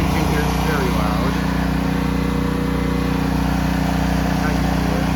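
A loud engine runs steadily at a haunted Halloween attraction, a constant low droning hum that dominates throughout, with faint voices beneath it.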